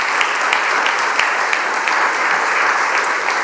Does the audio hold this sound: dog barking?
no